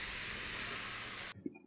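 Mushrooms and garlic cloves sizzle loudly in hot olive oil in a frying pan, a steady dense hiss that cuts off abruptly near the end.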